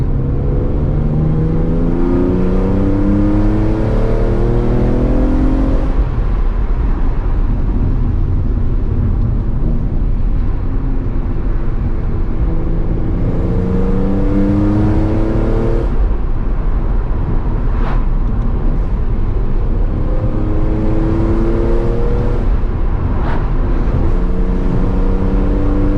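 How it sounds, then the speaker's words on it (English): A high-mileage BMW E46 M3 CSL engine revs hard while driving, rising through the gears in repeated climbing sweeps with brief dips at each shift, loud and close with no talking. "I should just shut up really and just let the engine do the talking."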